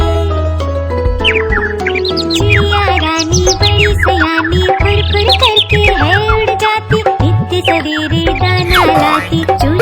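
Sparrow-like chirps and tweets in a Hindi nursery rhyme for children ring out loudly in quick, rising and falling bursts over a steady musical backing.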